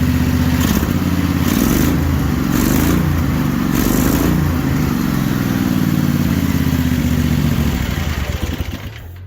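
A Wheel Horse C-81 lawn tractor converted into a mud mower runs loud and close in a garage, its engine revving steadily with a rough, clattery drone for about nine seconds before starting to wind down at the end.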